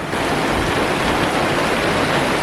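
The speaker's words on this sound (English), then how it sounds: "raining now." Rain falls steadily outside on a rainy morning, a constant even hiss that fills the whole stretch without pauses or voices.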